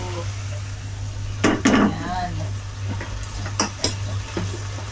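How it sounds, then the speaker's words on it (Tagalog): Milkfish (bangus) fries in a pan with a steady low sizzle, punctuated by a few sharp clinks and scrapes of a utensil against the pan. "Si Jeff na lang magpiprito ng bangus kasi para mas mabilis"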